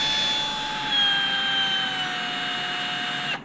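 A power drill driving screws into an HB Racing D817V2 RC car build whines steadily at close range for a few seconds, its pitch sagging slightly under load before it cuts off abruptly.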